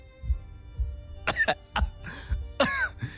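A man coughs in several short, harsh bursts spread over a few seconds, then winces in pain, in a video game, with a low thudding rhythm underneath and no talking.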